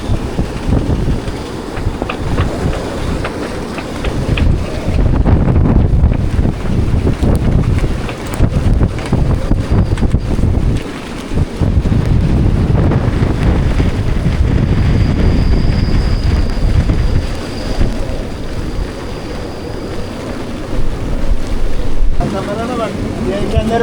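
Loud, constant wind roar buffets the microphone on a sailboat in a storm mid-Atlantic, with waves and hull noise rumbling underneath and a few voices talking in the mix.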